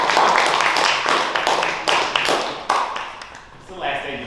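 An audience at a junior ranger program launch event claps in close, sharp bursts that soften and thin out toward the end, with talk and cheering mixed in.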